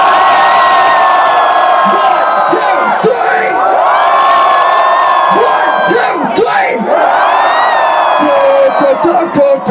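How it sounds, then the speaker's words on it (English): A big concert crowd at a college show screams as loud as it can, a huge sustained roar of shrieks and whoops that fills the space, very loud and unbroken for the whole stretch. "On the count of three, everyone scream as loud as they can."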